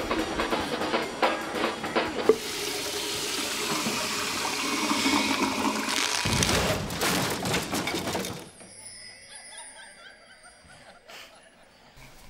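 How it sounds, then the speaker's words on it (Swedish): A household toilet flushes loudly with rushing water for several seconds, then gives way to quieter refilling trickles and faint room sounds. "Men Kristin, du får ju spola efter dig!"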